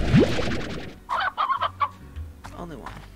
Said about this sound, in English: how many chickens do we have in here?